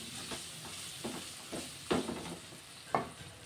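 Chopped tomatoes frying in a pan for cauliflower curry, a soft steady sizzle broken by several scraping stirs and a couple of sharper clinks, close and alone without voices.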